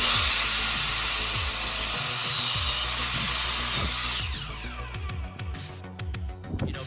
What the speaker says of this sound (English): people can say what they will about Ryobi, but the fact that my miter box can cut up to 13-inch deep pieces is a lifesaver